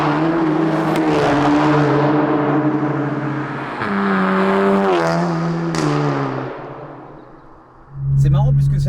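A Volkswagen Golf GTI TCR limited edition with a Stage 2 tune and around 360 hp revs hard, its engine note climbing and falling in loud sustained pulls, with crackling pops in between and one sharp burst near the end.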